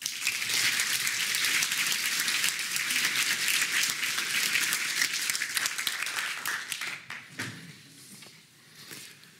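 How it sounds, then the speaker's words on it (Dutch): Warm audience applause at a philosophy lecture, a dense, even burst of many hands clapping that thins out and fades near the end, followed by a few stray sounds. "Graag eerst uw aandacht en een hartelijk applaus voor Jeroen Linssen."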